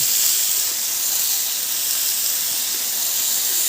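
Soaked whole pigeon peas (tur) roasting on a hot griddle give off a loud, steady steamy hiss and sizzle that holds unbroken throughout, with no talking.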